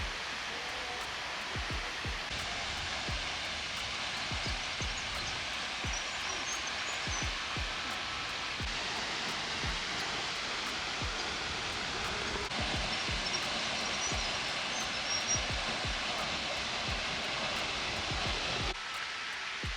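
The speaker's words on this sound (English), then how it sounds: "there's a waterfall and you can hear it running in the background." Steady broadband rush of a waterfall running in Waterfall Gully near Adelaide, heard on a hike; continuous and even throughout, with faint low thumps like footsteps or handling underneath.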